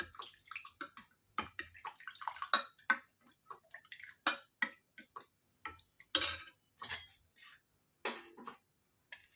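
Ice apple kheer stirred with a spoon after cardamom powder is added, quiet irregular clinks and scrapes against the pot with wet sloshing, close and sparse.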